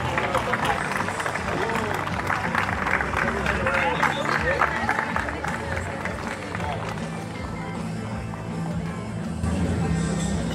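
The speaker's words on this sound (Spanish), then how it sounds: "Vamos a brindar un fuerte aplauso." Crowd applause at the ribbon-cutting opening of an international cultures fair in Aguascalientes, Mexico, a dense continuous patter of many hands with crowd murmur and voices mixed in throughout.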